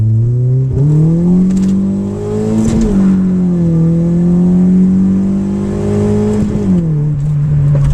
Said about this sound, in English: Okay, that's first, second, third, and already well, I was riding through second gear with the front wheels spinning.